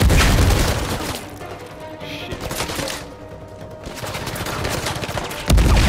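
Repeated shotgun and automatic gunfire in an Uncharted 4 firefight, loud and dense with booming blasts that thin briefly midway before a heavy final burst.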